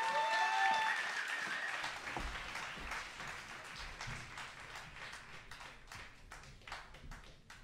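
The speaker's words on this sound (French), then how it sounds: "mag ik uw aandacht en uw warm applaus" At a Belgian Imagine music contest final, audience applause for an act comes through faint and distant, a soft patter of claps that thins out over several seconds.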